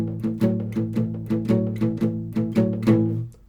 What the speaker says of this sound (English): With the palm muting, which just adds a little bit more punchiness to it.